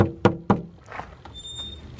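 A rotten door on a mobile home is worked open in a few sharp knocks and bangs, followed by softer rattling, scraping and a faint squeak. The sounds are close, with no speech.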